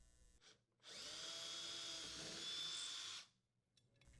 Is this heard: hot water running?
no